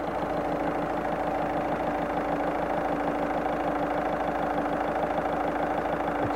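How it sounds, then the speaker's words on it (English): A VW Caddy 1.6 TDI van engine idling with a low fuel pressure fault gives a steady, close diesel chug with an even, rapid pulsing rhythm that holds for the whole stretch, with no voices. "As you heard, the van starts without problem."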